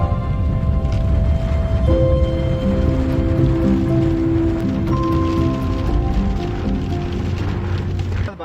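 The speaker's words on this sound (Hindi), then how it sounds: "यहाँ पर बारिश स्टार्ट हो चुकी है और मौसम इस्लामाबाद का बिल्कुल चेंज हो चुका है" Rain falling in Islamabad near an old hillside mosque, a loud dense steady patter on surfaces throughout, with a tonal hum and faint voices beneath.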